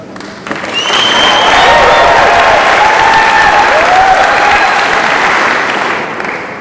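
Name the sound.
audience applauding and cheering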